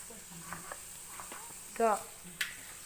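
Green chillies, crushed ginger and curry leaves frying in a pan, stirred with a few soft scrapes over a faint sizzle, with one brief squeaky scrape near the end.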